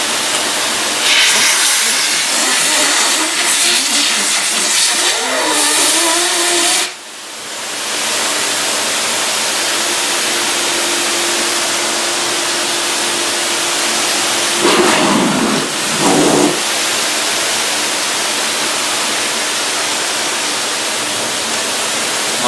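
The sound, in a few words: Dyson cordless vacuum cyclone pack being blown clean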